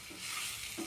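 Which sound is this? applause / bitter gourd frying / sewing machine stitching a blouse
bitter gourd frying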